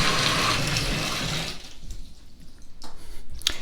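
Rushing, bubbling water fills the first moments as a Nokia 2760 flip phone is submerged, then quiets to small splashes and drips, with a sharp splash toward the end.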